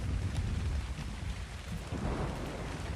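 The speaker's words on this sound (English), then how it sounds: "Are we getting like a thunderstorm right now?" Rain pours steadily in a thunderstorm in the game Ragnarok while low thunder rolls and grumbles continuously beneath the downpour; no voices are heard.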